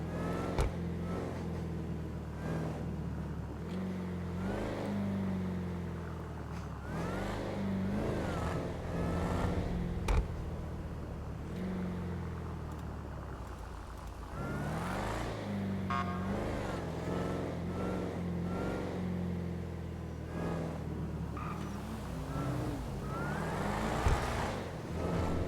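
A car rolls up in a roleplay game, its engine humming and revving at moderate distance with shifting pitch over a long stretch, alongside faint background game noise.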